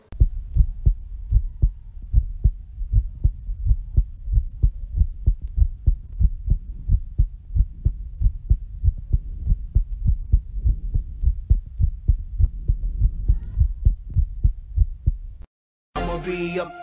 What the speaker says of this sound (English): I can speed up and slow down my heartbeat on command.